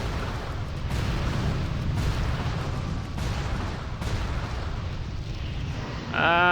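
A Holy Light Bomb spell in World of Warcraft, a rumbling roar of explosions with sharp bursts at roughly one-second intervals, ending on a bright ringing tone.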